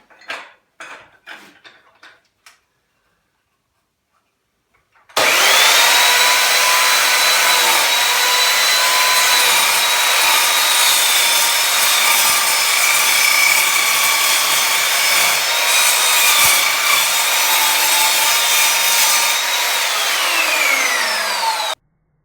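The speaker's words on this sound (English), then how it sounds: "I'm going to try cutting this on a bit of an angle. See what it's like on a 45." An Evolution Rage3-S sliding compound mitre saw makes a 45-degree angled cut through wood, starting abruptly after a few faint knocks and a short silence, then running loud and steady for about seventeen seconds before winding down.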